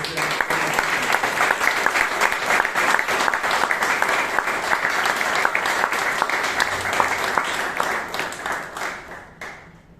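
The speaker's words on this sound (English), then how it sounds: "Can you please give a thunder of applause to Vijay?" Toastmasters meeting audience in Bangalore gives sustained, loud applause, many hands clapping steadily for several seconds before tapering off.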